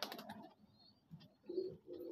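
Domestic pigeons coo softly in a house loft, with a couple of low, throaty coos standing out near the end of a quiet, faint stretch.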